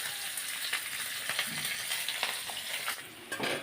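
Sliced onions and green chillies fry in a small amount of oil, giving a close, steady sizzle. Stirring scrapes and crackles come through it, and no one speaks.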